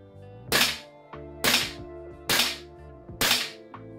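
A VipreTech airsoft pistol fires four sharp, evenly spaced snapping shots at close range, each followed by a quick mechanical click.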